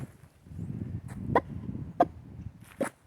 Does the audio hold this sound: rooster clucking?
yes